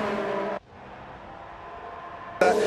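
Formula One race cars in the F1 2019 game on the Singapore street circuit, a high-pitched engine whine that cuts off abruptly, leaving a quiet gap before another loud car's scream returns at the end.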